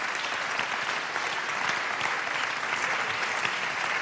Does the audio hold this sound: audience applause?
yes